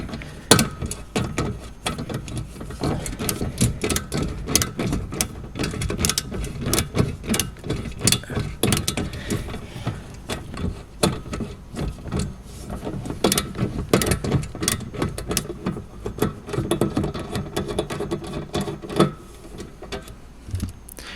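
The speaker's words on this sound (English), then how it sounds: "I bet that's really exciting to watch me unscrew bolts." A hand tool ratchets rapidly while unscrewing bolts on the aluminum rear bumper bar of a 2016 Honda Pilot, a dense, continuous stream of close mechanical clicks lasting throughout with only brief pauses.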